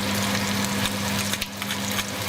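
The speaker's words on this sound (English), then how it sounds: "And next I'm going to add my onions. And we're going to allow the onions to take on some color." Onions fry in a pan for chop suey, giving a steady, fairly loud sizzle with a low hum underneath and a few faint stirring scrapes.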